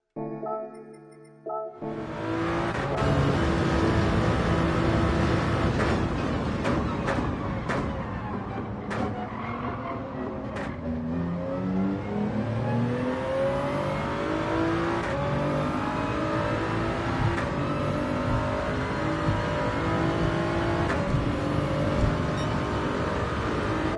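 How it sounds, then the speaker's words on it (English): Toyota GR Supra with a turbo engine in a racing video game at Tokyo South: the engine bursts into loud acceleration, revving up through repeated gear shifts with rising and falling pitch, sustained and close for the whole stretch, with no talking. "start easing on the throttle, accelerate for rotation. Turbo's going to spool up."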